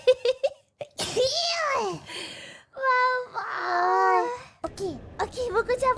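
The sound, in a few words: sneeze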